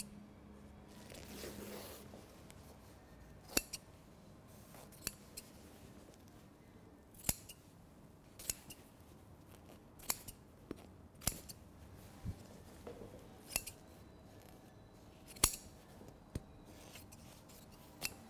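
Sharp scissor snips cut through the wool cloth of a luxury tailored suit, a dozen or so crisp clicks spaced irregularly over a quiet background, close and fairly loud, with no talking.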